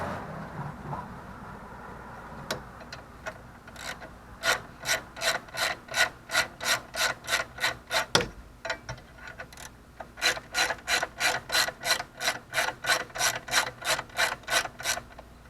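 A ratchet wrench loosens a 12mm bolt on the alternator of a Toyota Corolla with a 2ZR-FE engine, giving fast rhythmic clicking bursts in steady runs with a short pause and a clunk midway.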